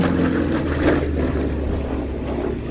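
A propeller aircraft drones loudly and steadily overhead at the Duxford Battle of Britain air show, with the A-26C Invader, P-47D Thunderbolt and Fury FB.II flying, a continuous engine roar with no voices.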